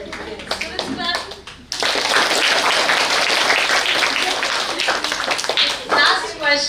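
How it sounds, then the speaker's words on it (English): Students at a school quiz activity break into a burst of clapping after speech, a dense, loud round of applause that fades as talking resumes. "Students clap."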